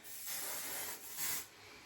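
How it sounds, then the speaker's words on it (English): Hairspray misted onto styled curls during a blowout, heard as two soft, close hissing bursts alone, each lasting under a second with a brief pause between them. "When I tell you the tiniest bit of hairspray, otherwise it actually flattens your curls."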